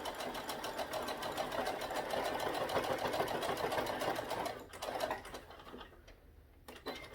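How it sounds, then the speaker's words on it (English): A Brother SE 1900 sewing machine stitching steadily into a baby onesie, a continuous close rapid mechanical whir that runs for several seconds, then stops with short bursts near the end. "So I'm gonna start sewing again."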